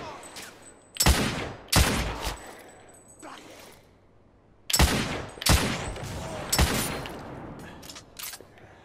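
Gunfire in The Order: 1886, a third-person shooter: sharp, loud shots crack in separate bursts, a few close together, with short quiet gaps and fading echoes between them.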